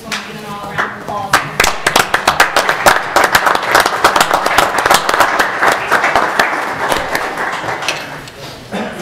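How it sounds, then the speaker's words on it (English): Applause at a city council meeting honoring award recipients, a room of people clapping steadily with sharp individual claps standing out, sustained at moderate loudness and tapering toward the end. "And just want to give them all a round of applause"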